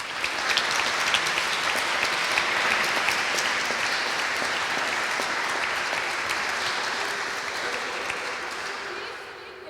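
Sustained audience applause at an evening peacebuilding panel event in Berlin, welcoming a panel speaker; steady, dense clapping from a moderately distant crowd filling the room without pause.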